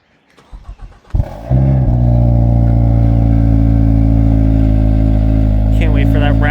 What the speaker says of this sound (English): last time cold starting this thing. On stock exhaust.